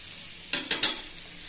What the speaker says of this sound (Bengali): কুঁদরি ভেজে দেখুন বন্ধুরা